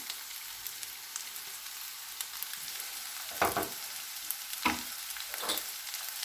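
Capsicum and chicken frying in a pan, a soft continuous sizzle with a few louder bursts of stirring, heard alone without any talk.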